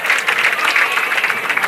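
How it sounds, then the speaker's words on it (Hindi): Loud, close audience clapping welcomes welding trainee Bhim Prakash Kumar Raigar onto the stage at a national skill training institute ceremony in Jodhpur, a brief dense burst of hands. "जोरदार तालियों से स्वागत कीजिए इनका।"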